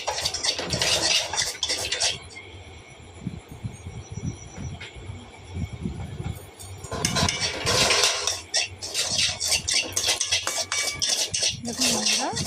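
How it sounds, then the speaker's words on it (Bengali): Raw banana fries in ghee with semolina as a utensil scrapes and clinks against the pan in irregular bursts of stirring, loud at times and near. "2 চামচ মতন ঘি দিয়ে ভেজে নেব ভালো করে, লাল লাল করে।"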